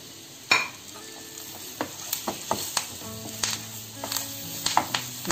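Chicken with green chilli and curry leaves stirred in a sizzling pan, a steady fry hiss broken by repeated scraping, clinking strokes of the spoon, close and clear with no talking.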